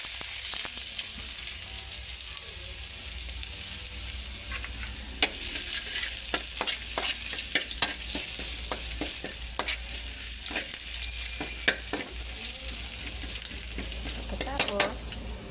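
Garlic frying in a pan at breakfast, a steady soft sizzle with a run of light clicks and scrapes as it is stirred, fairly close and without voices.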